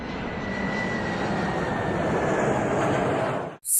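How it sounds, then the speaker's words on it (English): Jet aircraft engine roaring steadily and loudly, a continuous broadband rush with a faint high whine, cutting off abruptly near the end. "Jet."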